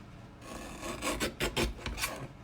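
A paper trimmer blade slices along the bottom edge of a card, giving a close, dry rasping scrape in a few quick strokes, with no talking.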